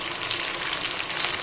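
Curry leaves and peanuts sizzle in hot oil already holding chili for a village-style pomegranate poha recipe, a dense close crackling fry with no talking.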